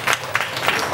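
A brief burst of applause rises at a residential maintenance committee meeting, a scattering of hands clapping in a room for about a second.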